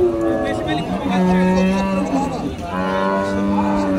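Dairy cows with calves moo at the Bamundi cattle market, a few long, loud, close calls rising and falling, with a voice talking underneath.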